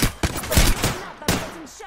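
Bursts of gunfire crack close and loud in Apex Legends, a few sharp shots in quick succession followed by a short pause and another burst.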